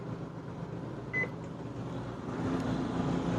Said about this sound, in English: Microwave, 1 minute.